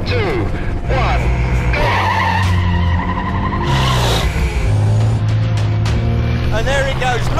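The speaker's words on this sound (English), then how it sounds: "He's really moving down the track, it's accelerating like a bullet." A truck running on Goodyear tires accelerates hard down a track during a world speed record attempt, its engine roaring loudly and rising in pitch with tire noise throughout, while a voice talks over it.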